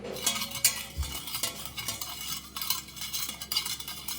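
A mint lime drink stirred in a glass, with a steady run of soft clinking and swirling spoon taps, close and moderately loud, with no talking.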